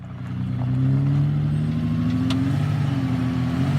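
A car revs hard while driving through sand with an underinflated front tire, the engine drone rising and holding steady, loud and close with no talking.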